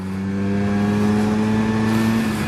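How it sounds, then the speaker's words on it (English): A 1979 Vespa P200E scooter with a 200cc two-stroke engine holds a steady, loud idle or rev throughout, its droning tone rising slightly in pitch toward the end, with no voices. "this is a 200cc 2-stroke"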